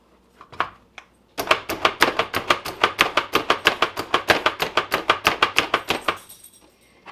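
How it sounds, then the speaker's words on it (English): Knife chopping peeled garlic cloves on a board, a fast, steady run of about thirty close, crisp thuds after a few tentative taps, no voices. "I'm going to start chopping them"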